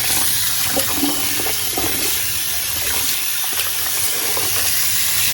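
Wheat grains washed by hand in a basin of water for bulgur, a steady close sloshing and splashing with running water throughout, no talking.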